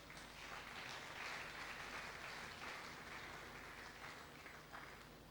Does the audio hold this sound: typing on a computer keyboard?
no